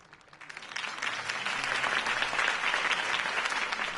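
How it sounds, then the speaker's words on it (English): A crowd at a political campaign speech in the Batman Telltale game bursts into applause, swelling quickly from a few claps into a dense, steady wash of clapping heard from a slight distance. "If only Mr. Wayne, my campaign's largest backer, could have heard that applause"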